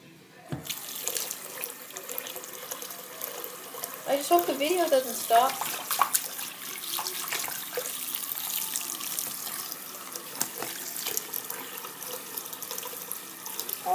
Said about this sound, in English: Wait, I think this water should be filled up more.